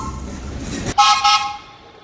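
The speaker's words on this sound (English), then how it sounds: "The R10s had air horns" Air horn of an R10 subway car gives one short, loud toot, briefly broken and then cut off, over faint rumble.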